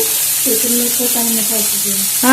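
Ridge gourd peels fry in a hot pan with a steady, loud, close sizzle throughout, while a voice hums or talks faintly over the hiss.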